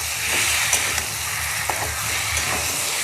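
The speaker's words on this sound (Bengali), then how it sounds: "মশলাটা দিয়ে আলুর সাথে মিশিয়ে দেব আর একটু ভালো করে কষিয়ে নেব" Ground spice paste fries with potatoes in a pan as a loud, continuous close sizzle, with a few faint stirring scrapes breaking through.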